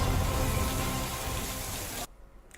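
Heavy rain pours down in a dense, loud, continuous hiss during a storm in Bihar, cutting off abruptly near the end.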